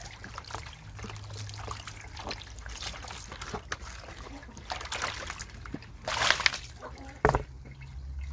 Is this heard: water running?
yes